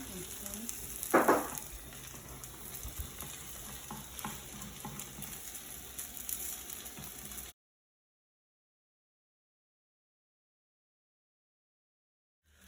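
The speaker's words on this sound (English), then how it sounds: "Make sure you're touching the bottom of the pan" Egg fries and is stirred in a pan for leftovers fried rice, a close, continuous sizzle with scraping stirs for about seven seconds before the sound cuts to silence.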